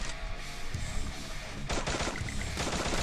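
Rapid gunfire bursts in the Free Fire battle royale game, loud and dense throughout, with a heavier stretch of shots in the second half.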